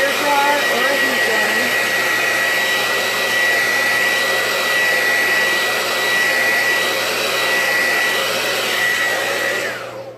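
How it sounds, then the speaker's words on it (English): A hair dryer blows in a loud, constant whooshing drone with a faint whine, close by and unbroken for about ten seconds before it tapers off at the end. "I'm going to use a hair dryer to kind of dry it a little bit faster"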